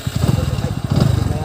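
A motorcycle idles close by with a steady, pulsing low chug, lumpy and continuous throughout, while a voice speaks over it.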